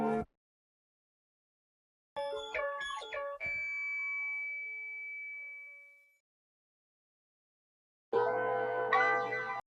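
Tones and atoms phrases from Cadet's CS80 synth bank: a brief bright burst, then a cluster of quick chiming synth notes that ring into a long fading tone, followed after silence by a dense buzzy chord.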